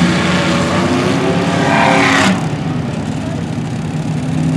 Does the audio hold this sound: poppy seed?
no